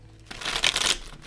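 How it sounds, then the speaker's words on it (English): A deck of tarot cards is riffled in one quick, crisp shuffle, a brief close flutter of flicking cards that swells and fades within a second. "I need to make sure this is shuffled good."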